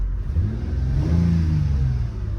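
A 2002 Mercedes E320 4Matic wagon's 3.2-liter V6, rated about 225 horsepower and showing 212,000 miles, revs up close by, its engine note rising and then easing back in one smooth swell, with no talking.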